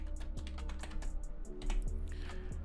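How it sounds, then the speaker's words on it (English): Quick, close keystrokes on a computer keyboard clatter in an uneven run, with a few heavier key presses standing out above a low background hum. "Now, if I type in Studio One 4 here,"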